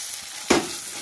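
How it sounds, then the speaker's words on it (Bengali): Mashed boiled fish stirred with spices in a pan, one short scraping thud of a spoon over a soft steady background hiss, close and brief. "এটাকে দিয়ে ভালো করে মিশিয়ে নিতে হবে"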